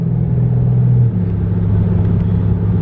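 A Dodge Scat Pack's engine rumbles loud and close, a deep steady drone that dips slightly partway through.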